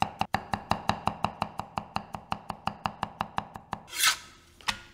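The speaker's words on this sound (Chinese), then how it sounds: "准备大蒜几颗和生姜1小块剁碎备用。" A kitchen knife steadily mincing garlic cloves and a piece of fresh ginger on a cutting board, with about twenty quick, even, close chopping taps and a brief scraping sweep near the end.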